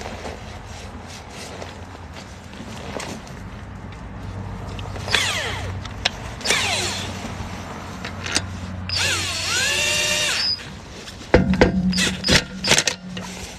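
Lug nuts going onto a BMW X5 wheel during a roadside tire change, a tool whirring in several rising spurts with metallic clicks and handling noise, close up.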